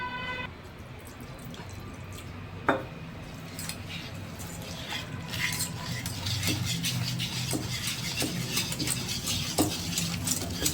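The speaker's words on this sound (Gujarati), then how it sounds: "રવાને સરસ રીતે ફેટી લેવાનો" Rava dhokla batter of semolina, buttermilk and water is beaten in a bowl, producing a steady, close wet stirring and sloshing with occasional light clinks of a spoon against the bowl.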